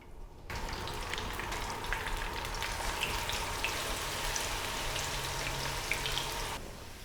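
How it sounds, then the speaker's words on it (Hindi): Small chopped onions fry in oil while being browned lightly for a cauliflower sabzi. A steady, close, even sizzle crackles throughout with no talking. "अब मैं इसमें शामिल करूँगी प्याज मैंने छोटे साइज़ की लिए, इसको हम लाइट ब्राउन कर लेंगे।"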